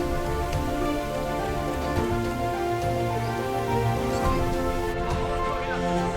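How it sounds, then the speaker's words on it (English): Dense, steady rain pours down in a Puerto Rico rainforest, filling the air with constant hiss and patter amid layered humming tones, without pause. "Today turned out to be a wet day, but the rain cools down the air"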